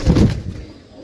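A pigeon coos once, close and fairly loud, a low soft throaty call that fades out after a moment.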